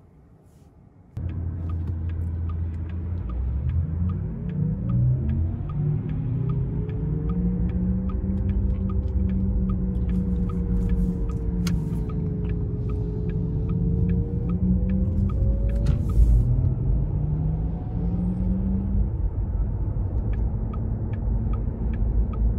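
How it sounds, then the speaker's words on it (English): A 2021 Porsche Taycan Premium rear-wheel drive electric car on the road, a smooth motor whine gliding up and down in pitch over a steady low road rumble, heard from inside the cabin. "take this Taycan rear wheel drive out on the road for a quick test drive"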